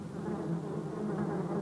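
Honeybees kept for bee-sting apitherapy buzz in a steady, close, continuous drone with no talking, the hum holding even for the whole moment.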